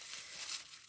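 Scissors or a blade cut away the excess from a piece of straw while building a simple birdhouse, giving a steady, close crinkly snipping rustle with no voice.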